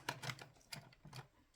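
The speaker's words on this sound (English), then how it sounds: "I'm just going to cut that off." Paper for a file folder journal is cut in a few short, dry snips and crunches close up, quiet and unhurried, with no talk.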